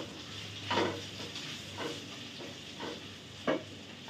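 Food sizzles and fries in a pan while being stirred, a soft steady hiss broken by several brief louder scraping bursts at irregular intervals, close and fairly quiet, with no voices.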